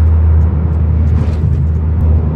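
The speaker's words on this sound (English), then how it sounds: "giving the car some shit, getting it up to speed on the freeway" Turbocharged SOHC Mitsubishi 4G93 engine in a budget Evo-style build, accelerating up to speed on a freeway: a steady, loud low-pitched engine drone with road roar, continuous and close throughout.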